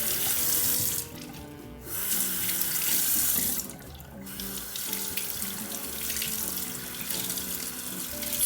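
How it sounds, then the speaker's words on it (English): Water from a tap runs in a steady hiss over a Beauty Blender makeup sponge, with two brief pauses where the flow is interrupted or blocked before resuming. "run it under cold water and pump your hand a couple times with the sponge"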